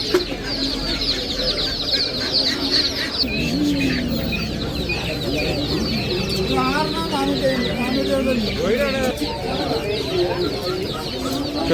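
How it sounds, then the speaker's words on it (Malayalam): Chickens and young native hens cluck and squawk near at hand at the busy Chelari weekly market in Kerala, a constant clucking chorus while people talk and bargain nearby. "നാടൻ കോഴിക്കുട്ടികളോ"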